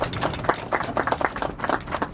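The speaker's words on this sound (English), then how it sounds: "I'd like to give him a round of applause for his efforts" Modest group applause at a speaking event, a steady patter of several hands clapping close by, fairly loud, with no voices over it.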